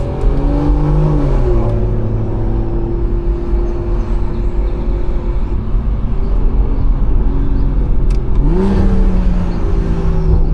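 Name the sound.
BMW B58 engine turbo revving during drive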